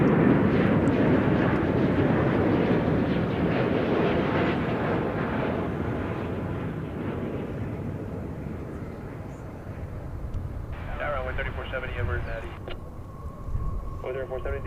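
American Airlines airliner arriving at DFW from Frankfurt, a loud broad jet roar that slowly fades as it passes, with people talking over it and an electronic beeping tone near the end.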